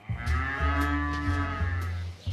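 A dairy cow, of a herd mostly Prim'Holstein, lets out a long, deep moo close by, one drawn-out call.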